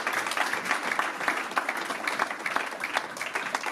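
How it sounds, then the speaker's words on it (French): Church congregation claps for the Lord, a moderate, fairly even round of many hands with a loose rhythmic pulse, close and continuous for a few seconds. "Applaudissez pour le Seigneur."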